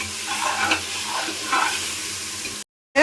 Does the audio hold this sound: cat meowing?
no